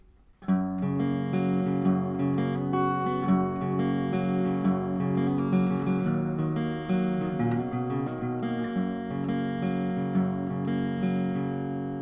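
A guitar plays the sustained, ringing intro of a song, chords and melodic lines, loud and close with no voices.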